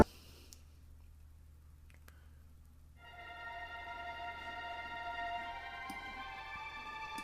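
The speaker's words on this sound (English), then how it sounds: "you hear the little bit of tremolo" After a few seconds of near silence with faint clicks, a soft, airy string texture of tremolo played flautando fades in, sustaining a shimmering chord quietly to the end.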